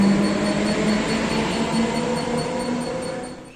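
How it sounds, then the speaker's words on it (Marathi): An air-conditioned Mumbai suburban local train runs past a station platform, a steady close rumble with a sustained electric hum that fades slightly toward the end. "तेवढ्यात ही AC लोकल समोर आली, तर मग घेतलं तिला फ्रेममध्ये"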